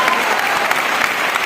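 Steady, dense applause from a seminar audience, loud and continuous with no break in the clapping across the short stretch.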